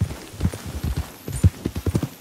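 Horse hooves in the video game Red Dead Redemption 2: brisk, rhythmic clip-clop thuds of a horse on the move, close and distinct, with no one speaking.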